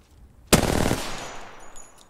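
Gunfire in the video game Apex Legends: a sharp burst of automatic shots opens loud and close, then trails off into a fading rumble with faint high tones behind.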